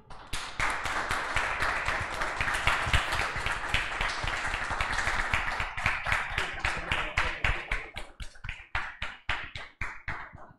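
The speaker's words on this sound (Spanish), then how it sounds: "Para mi familia también el aplauso" A room full of people applauding, sustained dense clapping that holds steady for most of the stretch, then thins out into scattered individual claps as it fades toward the end.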